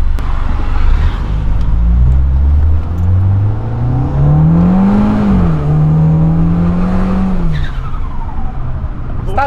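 A loud Peugeot 308 GTi engine revs up with rising pitch, eases off and climbs again, with fluttering turbo whooshes as the throttle lifts.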